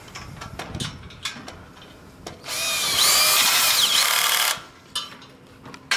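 A power drill whirs steadily for about two seconds tightening bolts on a paddleboard trailer hitch, framed by scattered clanks and taps of metal tools and a wrench before and after.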